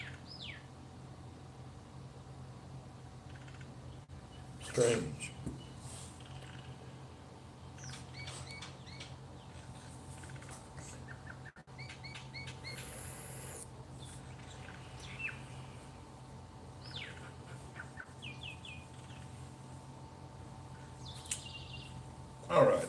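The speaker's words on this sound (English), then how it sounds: "these two birds, minor birds, landed on my windowsill and started yelling at each other" Two mynah birds perched on a windowsill call at each other with sharp, scattered chirps and squawks, close and intermittent over a low indoor hum, with a brief spoken word from a man.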